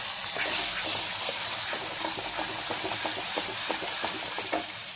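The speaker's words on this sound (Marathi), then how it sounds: "तेलात चांगले परतून घेऊ. मसाले लय जळून द्यायचे नाहीत आणि लगेच वरून वाटण घालायचं." Spices frying in hot oil for a kat amti curry, a steady loud sizzle and hiss close by, with light stirring scrapes throughout.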